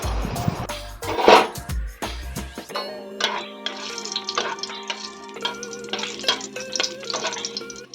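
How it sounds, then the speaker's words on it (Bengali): Whole garam masala spices dropped into hot oil in a kadai for cooking meat, a loud clatter and splash followed by steady, busy sizzling and crackling frying sounds close by. "মাংসের তেল কড়াই দিয়ে দিয়েছি। গরম মশলা ফোড়নে দেবো"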